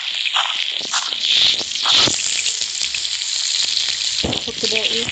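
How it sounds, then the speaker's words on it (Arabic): Minced meat sizzling in a pan in the Toca Kitchen cooking game, a steady bright hiss of frying running throughout with a few soft clicks and taps over it. "احط المفروم، اديهم شويه تحميصه"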